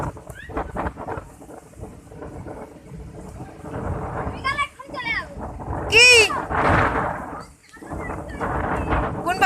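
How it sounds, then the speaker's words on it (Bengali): A thunderstorm with heavy rain pours steadily in a village, with a loud thunderclap near the middle; voices of people talking are heard over the downpour. "দেখো কি প্রচণ্ড বৃষ্টি আসছে এত জোরে বিদ্যুৎ চমকেছে"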